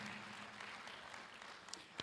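Applause at a fall university convocation, honoring student leaders: a faint, distant wash of clapping from a large crowd, steady throughout with a couple of sharper claps near the end.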